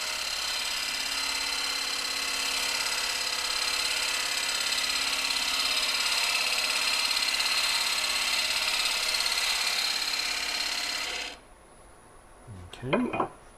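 A wood lathe makes a tight cut in padauk wood, giving a continuous, even, hissing whir that stops abruptly near the end. A few brief clunks follow in the quiet.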